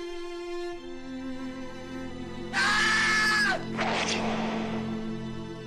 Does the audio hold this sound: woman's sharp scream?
yes